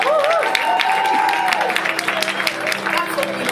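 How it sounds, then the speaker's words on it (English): Audience applause at an awards ceremony, a dense, steady wash of clapping lasting several seconds, with some tonal music or voices mixed underneath. "That's what we like to hear, lots of applause."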